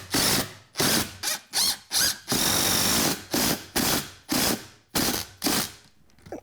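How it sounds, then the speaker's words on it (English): A power drill drives a screw into a workbench in repeated loud bursts, about ten short whirring pulses with one longer run near the middle, close and with no talking. "I'm actually going to do one screw down like this, try and suck it in."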